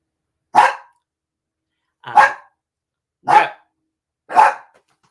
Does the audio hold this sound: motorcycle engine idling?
no